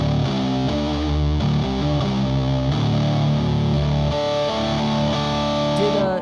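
A heavily distorted electric guitar plays thick, low riffs through an octave pedal, giving an octave-doubled tone, sustained and loud throughout with no talking.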